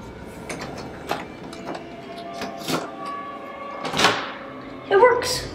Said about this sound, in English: See if the key works for the door.